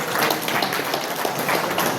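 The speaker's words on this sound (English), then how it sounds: "Please a round of applause for her." An audience claps steadily in applause at an event, a dense, even wash of hand claps from many people that stays loud throughout.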